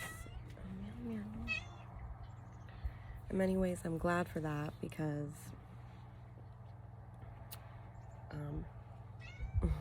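A cat meows repeatedly, some calls drawn out and wavering, close by, while a person talks over a low steady hum.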